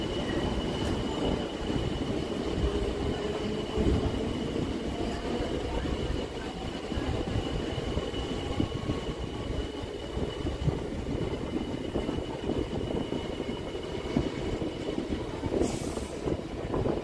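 Sealdah–Dankuni local train rolling across the Narkeldanga rail bridge near the Sealdah coach yard, a steady loud rumble of wheels and carriages with faint squeals, no voices.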